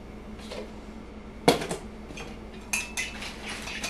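A spoon clinks against a bowl while fruit is stirred into vanilla yogurt, giving a few sharp scrapes and knocks, one louder clatter, then scattered softer taps over a quiet kitchen background.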